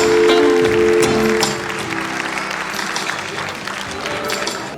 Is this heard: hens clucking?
no